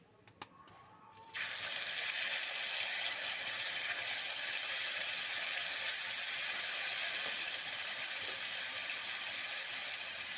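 Cumin paste hits hot oil in a pan after the spice tempering has reddened, while making Bengali rui fish tok; a loud, steady sizzle bursts in after a second of near quiet and holds without pause, with no talking.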